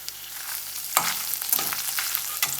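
Spices such as cumin, black pepper and byadgi chillies dry-roasting with grated coconut in a pan for a coconut fish curry, with a constant crackling sizzle and several distinct scraping stir strokes of a spoon, no voices.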